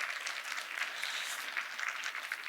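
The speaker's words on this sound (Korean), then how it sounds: "저희 연구원을 위해서 박수 한번 쳐주지 않겠습니까?" Soft, continuous audience applause for researchers of an electrical equipment testing and certification institute in Gyeongnam, a brief, even wash of many hands clapping at a distance.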